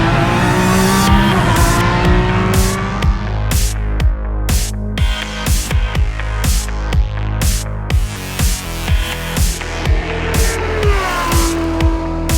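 A Lamborghini Essenza SCV12 track car engine revs hard and loud, climbing through repeated high-pitched rising sweeps broken by quick gear-change drops, with tire squeal mixed in and no talking.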